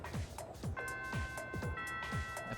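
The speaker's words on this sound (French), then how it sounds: "La première cloche a sonné." First school bell chiming in Persona 3 Reload, a ringing tone that sustains through the middle of the clip over repeated soft descending tones.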